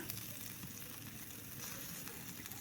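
Pork fat and shashlik sizzle steadily while frying over heat outdoors, a dense continuous crackle with fine pops throughout, close and fairly loud, with no talking.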